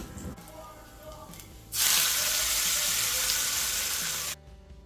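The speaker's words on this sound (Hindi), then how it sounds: "उसमें करी लीव्स डाल के बघार लीजिए" Mustard seeds, dried red chillies and curry leaves hit hot oil for tempering a dosa and idli chutney, bursting into a loud, steady sizzle that holds for a few seconds, then cuts off abruptly, with quieter kitchen sounds before and after.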